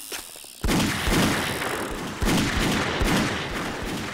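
Gunfire in the video game 7 Days to Die: loud, close shots burst in after a quiet opening, with a second heavy volley near the middle and repeated reports ringing on through a dense, echoing wash.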